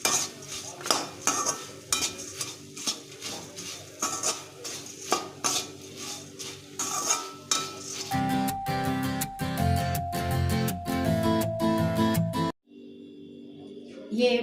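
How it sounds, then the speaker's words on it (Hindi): Puffed rice (murmura) dry-roasting in a kadhai for a namkeen mixture, with repeated scraping and clinking of a metal spoon against the pan, later joined by a brighter ringing scrape, fairly close and without talk. "अब ये मूढ़ी डाल के थोड़ी देर हम इसको फ्राई कर लेते हैं।"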